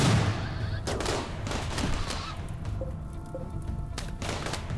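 Turret gunfire in a RimWorld raid at the Biotech doomsday vault, a dense run of overlapping shots and thuds under a steady game din, with several louder bursts standing out.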